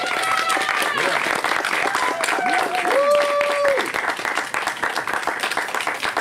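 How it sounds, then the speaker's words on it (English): An audience applauds a poet at an open mic poetry event, a sustained, dense wash of clapping and crowd noise that stays loud throughout, with voices and whoops mixed in over it. "Keep that round of applause going for Danny"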